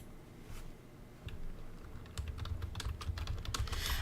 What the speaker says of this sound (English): you can hear my typing even though it's a soft keyboard